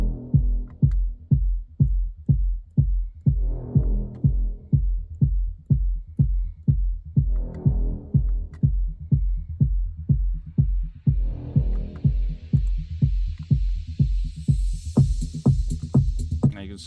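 A short bass stab synth in an Ableton Live progressive track, boosted in the low end, repeats in a steady, even pulse of punchy low hits with a brighter swell of higher tones building toward the end.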